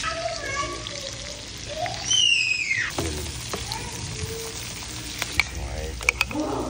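Tofu and onions frying in butter, with a steady sizzle under gliding whistle-like tones and a few clicks and stirs.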